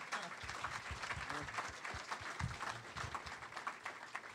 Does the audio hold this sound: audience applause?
yes